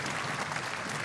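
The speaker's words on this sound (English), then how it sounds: "Give him a great big round of applause." Audience applause at a live Guinness World Records show, a dense, steady wash of many hands clapping throughout the short moment with no voices standing out.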